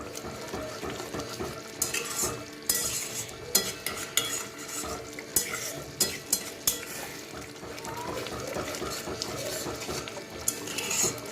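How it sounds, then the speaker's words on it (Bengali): A utensil scrapes and stirs masala in a pan over steady frying sizzle on a gas stove, with sharp metallic clinks and taps scattered throughout; no one speaks. "মশলা ভালো করে কিন্তু কষাতে হচ্ছে"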